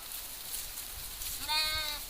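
A single clear bleat rises near the end, moderately close, from a sheep in a flock herded by a Nepali shepherd, over a steady hiss of open-air background noise.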